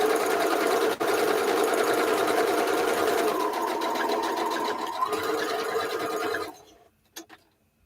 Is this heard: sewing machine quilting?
yes